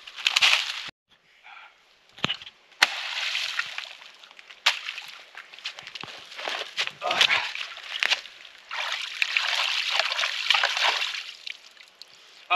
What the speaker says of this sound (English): What do you say we go back down here to the creek and we wash it out?